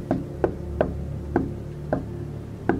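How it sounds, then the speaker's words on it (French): Knocking on a door in a film scene: about six firm, separate raps in an uneven rhythm, close and clear over a low, quiet background, with no speech. "arrivé sur place, ils se mettent à frapper à la porte"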